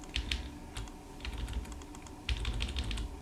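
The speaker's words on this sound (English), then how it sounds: "I'm just clicking multiple times here to build this up a little bit at a time." Rapid computer clicking at a desk while editing an astronomy image mask on screen, with repeated bursts of close, crisp clicks and faint key or button taps in a steady uneven rhythm.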